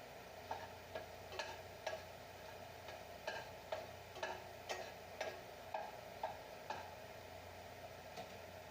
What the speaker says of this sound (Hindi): लहसुन को स्टर फ्राई करेंगे।